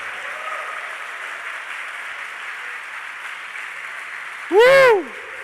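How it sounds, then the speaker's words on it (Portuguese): A church congregation at Sunday Mass keeps up a steady, even round of applause, with a brief sweeping electronic whine near the end. "Brada uma salva de palmas para Ele"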